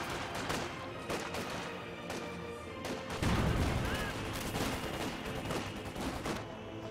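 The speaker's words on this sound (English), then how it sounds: "So our opponents are machine gun spamming." Sustained gunfire from the WWII strategy game Company of Heroes 2, repeated rapid bursts like machine gun fire with heavier blasts mixed in, steady and dense throughout with a louder rumbling stretch midway.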